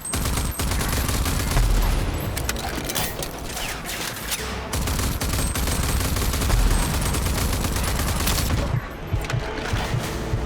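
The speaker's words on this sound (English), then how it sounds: "They're probably shooting from there." Bursts of rapid gunfire and mechanical weapon clatter from the shooter game Rage 2 fill most of the stretch, loud and close, with brief pauses between volleys.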